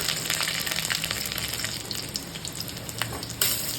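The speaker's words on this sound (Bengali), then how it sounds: "এরপর আমি কিছুটা রসুনের কোয়া দিয়ে দিচ্ছি" Garlic cloves frying in hot oil with black cumin give a steady, crackling sizzle throughout, with a brief sharp clatter near the end.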